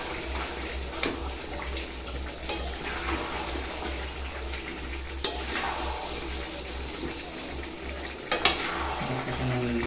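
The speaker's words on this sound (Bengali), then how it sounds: "আবারও একটু ভালো করে নেড়ে চেড়ে নিচ্ছি।" Chicken curry being stirred in a pan as it cooks down: a constant frying hiss with occasional loud scrapes and knocks of the spoon, over a low steady hum in the background.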